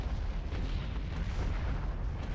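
Nuclear missiles pound an ice planet in the space strategy game Sins of the Solar Empire, with a Battlestar Galactica mod, producing a dense, continuous roar of deep overlapping blasts that is loud and sustained with no pause.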